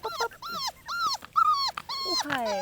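Four-week-old Bullmastiff puppies whimper and give small growls in a string of rising and falling yelps, close and clear outdoors.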